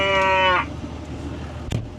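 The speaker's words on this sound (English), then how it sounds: "Time for chores. Cows are hungry." A hungry cow on a farm gives one loud, close moo lasting about half a second, followed by quieter barn noises and a brief clatter.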